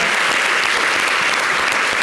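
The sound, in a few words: studio audience applause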